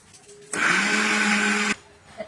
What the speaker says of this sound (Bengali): এবার মিক্সি করে নেব।